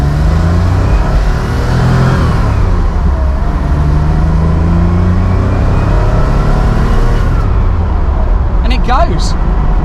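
A 2.7-litre Porsche 911 Targa pulls away from traffic lights, its engine note rising through the gears in a loud, close, continuous growl inside the cabin, with speech over it.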